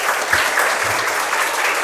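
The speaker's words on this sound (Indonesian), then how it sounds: "Tepuk tangan Maisan sekali" Audience applause at an Islamic youth event, steady dense clapping that fills the whole stretch evenly, close and fairly loud, with no talking over it.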